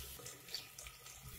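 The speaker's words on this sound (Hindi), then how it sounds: "थोड़ा सा पानी डालूंगी।" Water runs steadily from a tap into a cooking pot while preparing desi tinday (round gourd) masala, a continuous soft splashing hiss with no talk.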